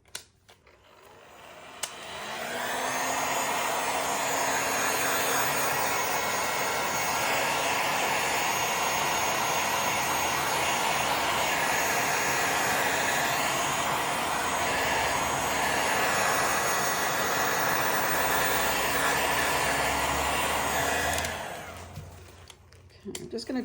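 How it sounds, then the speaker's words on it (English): A heat gun blows on wet paint colours with a loud, steady roaring hiss that starts abruptly, holds for about twenty seconds close by, then cuts off. "let's just hit it now with a heat gun."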